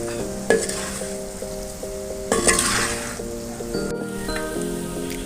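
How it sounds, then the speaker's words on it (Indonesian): Jackfruit rendang being stirred in a pan over steady cooking sizzle, with scraping and stirring movements throughout, moderately loud and close, steady hum in the background, no voices. "Diaduk-aduk terus Bunda, ini udah hampir masak."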